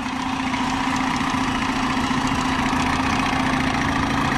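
A 1976 Mercury 7.5 horsepower outboard motor idles with a steady, loud, even drone and a constant low throb, running alone without pause.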